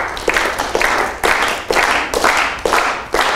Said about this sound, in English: now I want you to start clapping together at the same time